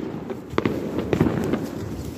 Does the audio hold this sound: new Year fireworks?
yes